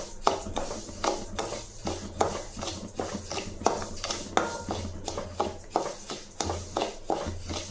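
Samai (little millet) dry-roasts in a pan, with a quick, regular scrape-and-rattle of a spoon stirring the grains against the metal, loud and close with no voices.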